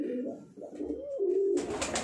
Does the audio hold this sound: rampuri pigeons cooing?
yes